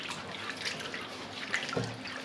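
Potato pieces stirred by hand in cold salted water, giving soft, continuous sloshing and trickling with a few brief splashes, fairly faint and close, no voices.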